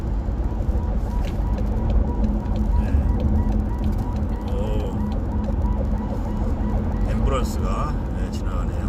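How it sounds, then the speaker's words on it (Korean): An ambulance siren wails faintly through steady road and engine noise as it passes by, while someone talks over it. "앰뷸런스가 지나가네요."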